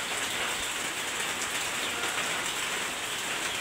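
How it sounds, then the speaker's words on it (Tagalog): Steady rain pours down in a dense, even hiss of drops hitting surfaces, holding at a constant moderate level all the way through, with no voices. "Ulan sa no. Ulan. It's rainy day."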